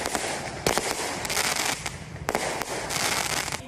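Firecrackers set off at night on a beach in Anping, Tainan, crackling in dense, continuous bursts with several sharper loud bangs punctuating the rapid popping.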